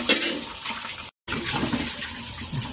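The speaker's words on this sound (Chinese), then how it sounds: "就將啲蝦咁清洗乾淨佢" Shrimp are rinsed clean under running tap water, a close, continuous rushing splash of water with one brief cut of silence partway through.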